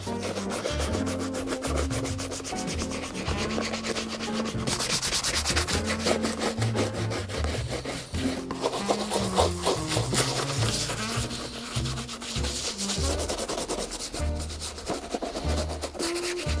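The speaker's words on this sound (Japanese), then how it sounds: "つま先に結構傷があるんで、茶色いクリームで磨いていきます。" Brown cream is rubbed into the scuffed leather toe of a Tricker's shoe, a steady close scrubbing and rubbing sound that continues almost without pause.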